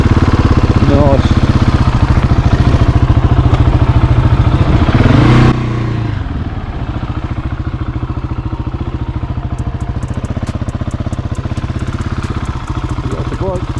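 A 2021 Husqvarna 701 single-cylinder motorcycle pulling in first gear, a steady close engine drone that drops to a lighter idle-like putter halfway through.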